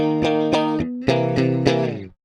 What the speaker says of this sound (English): the main distortion kicks in and away we go with that riff